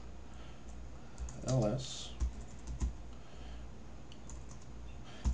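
Quick clicking keystrokes on a computer keyboard as a terminal command is typed, a short run of close taps followed by a few separate key presses, with a brief spoken word mixed in.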